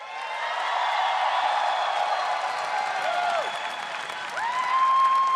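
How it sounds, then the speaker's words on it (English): Spectators at the 2016 League of Legends World Championship group stage cheer and applaud, a broad, steady roar of clapping and voices with rising whoops and shrill cheers swelling toward the end. "I want to ask you guys to cheer for A Miracle"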